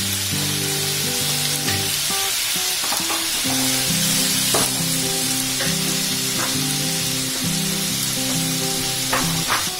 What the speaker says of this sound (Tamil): எண்ணெய் ஊத்தி இன்னும் கொஞ்சம் சிம்ல வச்சு நல்லா ஃப்ரை பண்ணி எடுத்துருங்க.